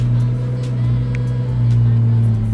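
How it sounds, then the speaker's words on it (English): A Ford Mustang engine idles with a loud, steady low hum, its pitch shifting slightly as the revs rise and fall. "Those revs going up and down are great."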